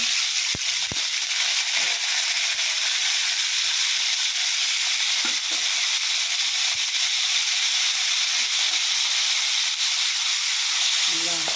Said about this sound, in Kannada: ಬೇಯಿಸಿರೋ ನುಗ್ಗೆಕಾಯಿ ಹಾಕೋಣ ಫ್ರೆಂಡ್ಸ್ ನೀರಿದೆಯಲ್ಲ ಅದಕ್ಕೆ ಕುಡಿತಾ ಇದೆ